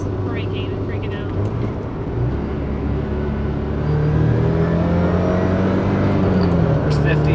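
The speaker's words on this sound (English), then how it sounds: "So let's go ahead and get this test drive done" A Mazda Miata with a Racing Beat front sway bar is driven on a test drive; the engine drones loudly inside the car, and its note climbs as the car speeds up partway through.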